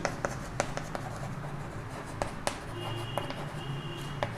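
A pen scratches and taps on paper while a Class 12 differentiation maths solution is written out. Short strokes come in an uneven rhythm, close and fairly faint, over low background hum, with a brief thin tone near the end.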